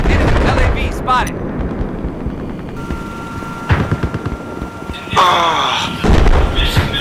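Artillery explosions and gunfire in the video game Battlefield 4, on a large conquest battle map, deliver heavy booms and thuds among scattered shots and game effects.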